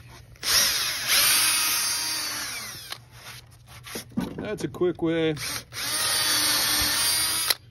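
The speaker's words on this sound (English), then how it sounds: "now we'll take and drill sideways and just lift the drill up" A power drill whines loudly while boring into wood, running in long bursts with a brief pause in the middle where someone speaks.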